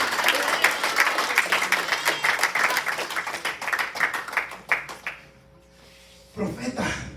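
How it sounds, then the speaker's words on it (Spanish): A church congregation breaks into dense, lively applause for God, a loud wash of many hands clapping that fades after about five seconds before a voice resumes. "Alguien le regala un aplauso a nuestro Dios"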